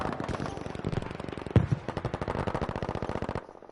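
Rapid automatic gunfire in a first-person shooter match, a fast steady stream of sharp shots with one louder crack partway through, close and loud before cutting off.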